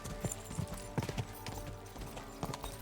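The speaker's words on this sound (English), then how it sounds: "And my horse staggers and slows down when he goes over these hills and all." Horse hooves galloping in Kingdom Come: Deliverance II, a rapid uneven clip-clop rhythm over hilly ground, close and steady under a low ambient bed.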